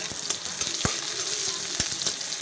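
Onions dropped into hot oil in a pan for an egg curry with poppy seed and cashews, a dense crackling sizzle with repeated sharp spatula taps, close and loud with no voice.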